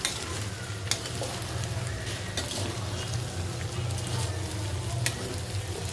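Spiced curry sizzles and fries in a pan while a utensil stirs it, with scraping strokes and occasional metallic taps over a constant crackling fry, fairly quiet and close.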